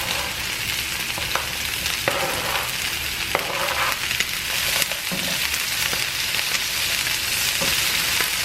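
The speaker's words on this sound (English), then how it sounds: "And then I'm just gonna add all of the veggies in." Vegetables fry in a skillet on a stovetop with a dense, steady sizzle and occasional scraping stirs, close and fairly loud, with no one talking.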